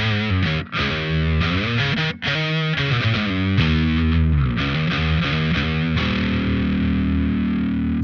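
A heavily distorted bass guitar played through a distortion preamp pedal plays loud sustained notes and slides, gritty and saturated, ending on a long held note.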